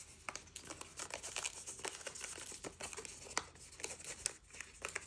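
Die-cut paper being popped loose from a repeat-pattern die, a quiet run of close crinkly crackles and small tearing snaps with no talking.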